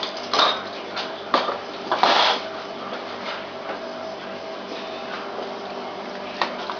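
A ladle and bowl clink and knock while chicken soup is served, giving a handful of sharp metallic and ceramic taps over a quiet kitchen background with no talking.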